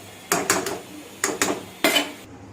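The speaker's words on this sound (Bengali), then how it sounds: "এবার একে আমি 5 মিনিটের মতন ঢাকা দিয়ে দেবো" A metal lid placed over a cooking pot for a potato and pointed gourd curry makes clusters of close, ringing clanks and rattles in three short bursts, then stops abruptly.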